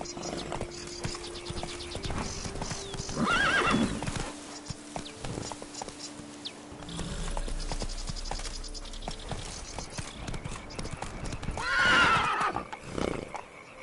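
A horse in the video game The Witcher 3 neighs and snorts while hoofbeats clip-clop underneath, two louder whinnies standing out over steady in-game background sound.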